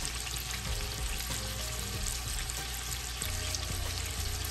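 Beef browning in a pan on the stovetop for a pot roast gives off a steady, loud sizzling and crackling that runs unbroken throughout, with a few faint stirring or shifting sounds and no talking.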